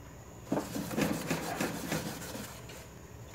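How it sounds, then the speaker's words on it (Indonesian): Close scrubbing of a Taiwanese tienko pot being cleaned, a rough rubbing scour repeated in uneven strokes over a steady low background hiss. "aku mau gosok lagi sampai bersih"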